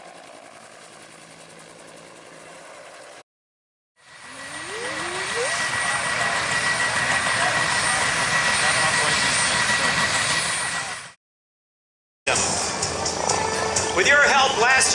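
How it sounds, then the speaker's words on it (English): Transport aircraft at an airshow, its loud, steady engine drone swelling in and holding for several seconds between breaks, with people chatting over it before and after. "This is just a transport aircraft, not a fighter aircraft."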